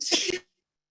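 A single short sneeze during a board meeting, sharp and breathy, close and fairly loud, then silence.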